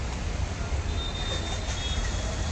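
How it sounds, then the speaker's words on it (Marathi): A train rumbling through Kharghar railway station, a steady low rolling roar with a thin metallic wheel squeal running above it. "इथं आपण पोहोचलो आहे खारघर रेल्वे स्थानकापाशी"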